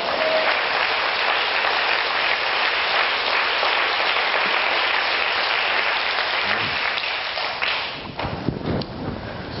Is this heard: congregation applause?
yes